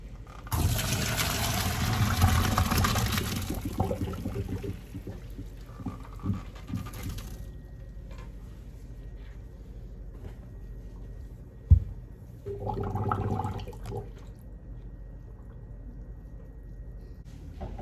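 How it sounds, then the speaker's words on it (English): Water pours off cooked basmati and jasmine rice into a sink, a loud rushing gush for a few seconds, then quiet clinks and a second shorter splash. "So let's drain the rice now."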